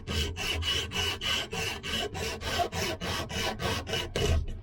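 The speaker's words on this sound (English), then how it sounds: "This is really coarse sandpaper. It'll take a lot of material off right quick." Coarse sandpaper rubbed hard against a carved wooden spoon, a rhythmic rasp of about a dozen quick, even back-and-forth strokes, close and fairly quiet, with no talking.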